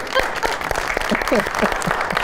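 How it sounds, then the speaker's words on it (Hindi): Studio audience applause on a Pakistani TV talk show, a steady wash of clapping filling the room while a voice speaks over it. "बहुत अच्छी जी, बहुत सारी तालियां जी।"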